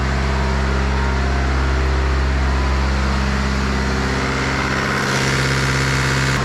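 BMW N47 diesel engine after a high-pressure fuel pump failure and complete fuel system replacement, running at a loud, steady idle with a constant low drone and a slight shift near the end.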